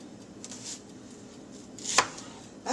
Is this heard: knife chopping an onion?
yes